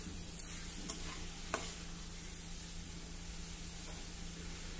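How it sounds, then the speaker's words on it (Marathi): Coconut and sugar mixture stirred in a pan over low heat, a soft continuous sizzle under a faint hum with a few light scraping taps early on. "आता मंद गॅसवर आपल्याला हे मिश्रण नीट परतत राहायचं आहे"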